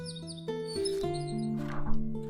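Cartoon-like bird chirps and tweets sound over a soft musical backing in a told story, several quick high calls in a short run.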